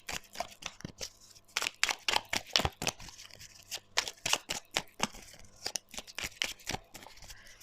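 Oracle cards being shuffled by hand, a run of crisp, rapid papery riffles and flicks in uneven bursts, close and clear with no talking.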